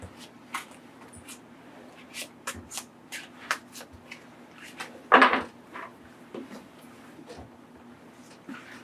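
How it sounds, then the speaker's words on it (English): Tarot cards are shuffled and dealt onto a table during a card reading. Soft, irregular slaps and flicks of cards are heard close by, with one louder riffle near the middle and a faint background hum. "Just put down a couple more cards."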